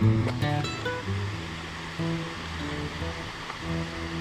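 Tharn Ngam waterfall in Nong Saeng district, Udon Thani, Thailand, gives a continuous broad rush of falling water, steady and fairly loud with no voices.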